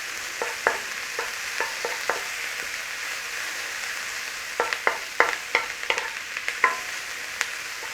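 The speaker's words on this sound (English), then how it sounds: "This is garlic and ginger, just freshly grated in there. Start to cook out that rawness in there" Freshly grated garlic and ginger with onions frying in a pan for a chickpea curry, giving a steady soft sizzle broken by scattered clicks and scrapes of stirring, with no talking.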